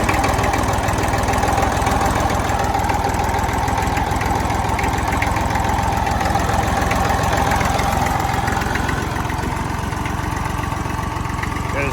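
A Ford Super Dexta tractor's diesel engine runs steadily at close range, a dense, unbroken rumble with knocking texture that holds at the same level throughout.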